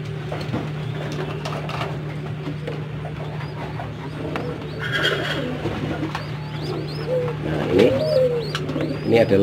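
Pigeons coo in low, rolling murmurs amid a steady hum, with scattered chirps and rustling, the cooing growing louder and busier toward the end, in a breeding coop with spotted doves.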